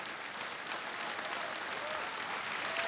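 Steady audience applause fills a large hall at a gala tribute event, a dense, even wash of many hands clapping without pause.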